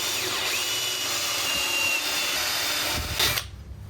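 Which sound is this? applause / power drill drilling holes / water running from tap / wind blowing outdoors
power drill drilling holes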